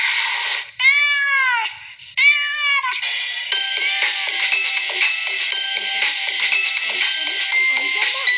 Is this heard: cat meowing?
yes